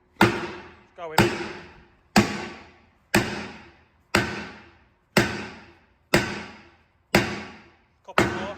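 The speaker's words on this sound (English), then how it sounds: "looked dangerous, we're just going to hammer it" Hammer strikes driving a pin into farm machinery during hedge-cutting and forestry mulcher prep: nine sharp, ringing metallic blows at an even pace about once a second, each decaying quickly, close and loud.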